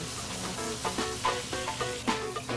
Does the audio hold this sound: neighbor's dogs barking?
no